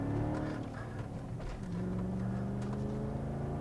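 Audi A6 with a 4.2 V8 and manual swap, BC suspension, climbing Loveland Pass: a steady, close engine drone with low harmonic tones that rise and shift as it pulls through a gear change, continuous throughout.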